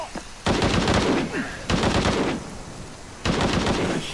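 Bursts of rapid gunfire in the action game Shadow of the Tomb Raider, three loud automatic volleys separated by short gaps, with faint game sounds between them.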